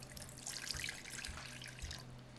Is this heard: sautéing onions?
no